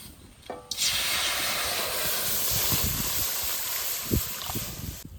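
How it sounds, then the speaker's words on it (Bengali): Water hits a hot kadai with a sudden burst of hissing steam after a quiet moment. The loud, broad sizzle carries on steadily, with a few small clinks and taps underneath. "এবার কড়াইতে জল দিয়ে দেবো"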